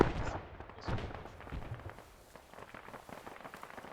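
Grenades going off during platoon training outdoors, two dull blasts in the first second followed by a scattered crackle of distant bangs and pops.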